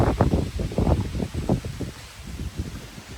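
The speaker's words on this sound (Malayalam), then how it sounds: "നല്ല കാറ്റ്" Gusty wind buffets the microphone in low, uneven rumbling bursts near a mountain on a road trip, easing off toward the end.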